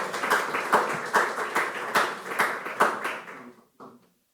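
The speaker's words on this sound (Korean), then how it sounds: "박수 한번 주세요." Audience applause at a church student gospel gathering, a burst of many hands clapping steadily for about three seconds before thinning out and stopping, with a brief final patter.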